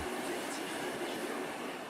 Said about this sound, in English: The train winds through the mountains.